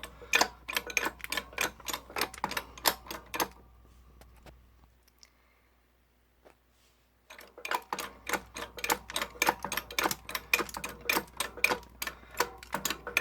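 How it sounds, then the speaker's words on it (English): A 12-ton hydraulic jack is pumped in a rose water heat press, a fast run of sharp, regular clicking strokes that pauses for a few seconds of near silence before the rapid clicking resumes. "Now the jack that I'm using is 12 tons of hydraulic pressure, so you definitely have to be careful."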